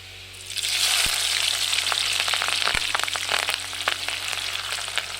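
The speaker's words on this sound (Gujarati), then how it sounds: "હવે આપણે થોડાક મરચા કાપ્યા એ મરચાં નાખી દેવાના" Chopped chillies hit hot oil in a frying pan, crackling and sizzling steadily and loudly with sharp spitting pops throughout, cooking for a desi-style paneer and peas dish.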